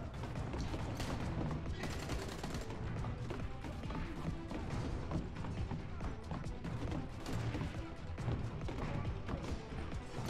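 Rapid, dense shotgun and gunfire from the shooter game Redeemer, a loud continuous barrage of blasts and crashes filling the whole stretch.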